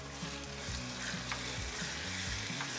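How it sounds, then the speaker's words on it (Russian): Wild boar liver sizzles steadily in a pan with vegetables, a dense continuous frying hiss broken by soft stirring scrapes and taps. "Тоже слегка ее обжарим."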